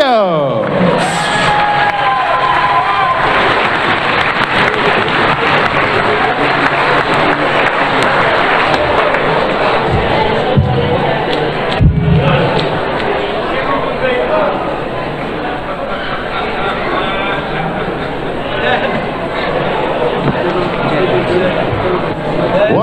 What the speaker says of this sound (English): please join me in giving a round of applause to your Welsh Classic finalist, the Quiff, Jim Williams.